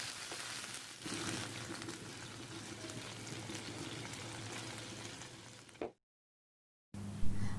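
Potato and chicken pieces fry in oil for a chicken biryani, a soft, steady sizzle with a low hum beneath, broken by a short gap before the frying resumes.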